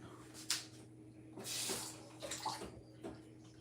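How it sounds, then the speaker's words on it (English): Tap water pours straight from a kitchen faucet in quiet bursts of hissing splash, with a few brief pauses and soft handling clatter around the flow. "You get what is called tapped water,"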